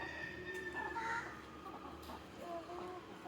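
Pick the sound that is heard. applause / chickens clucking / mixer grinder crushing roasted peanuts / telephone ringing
chickens clucking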